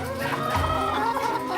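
Battery hens on a farm of 7,000 birds, a dense chorus of clucking and squawking from many hens at once, close and continuous with overlapping calls rising and falling.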